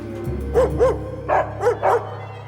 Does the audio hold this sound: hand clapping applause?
no